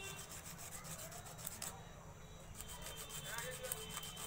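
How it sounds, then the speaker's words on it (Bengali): Lotus seeds are rubbed against a rough surface to scarify them, giving quiet repeated rasping scrapes in a back-and-forth rhythm that are close but faint, with a short pause midway. "এইভাবে ঘষে নিতে হবে, ঠিক ভালো করে সমস্ত দিকটা ভালো করে ঘষে নিতে হবে।"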